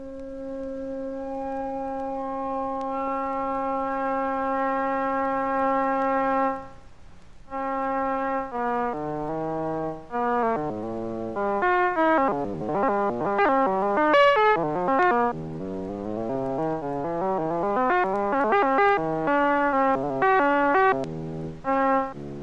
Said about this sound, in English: He experimented with additional sine wave generators, which gave him a more pleasing tone.